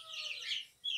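Naked neck chickens clucking on a small poultry farm, faint, distant calls in a short run with a brief pause before another cluck, no speech.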